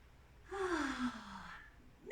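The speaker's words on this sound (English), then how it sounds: "We're going to do a big stretch up, big breath in." A single big breath drawn in during a standing yoga stretch, a fairly loud breathy rush lasting about a second, then quiet before another breath begins at the end.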